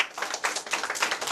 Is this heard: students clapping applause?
yes